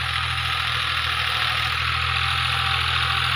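A rebuilt Fiat 480 tractor engine runs steadily up close, a loud, even diesel drone with a throbbing low rumble and no voices.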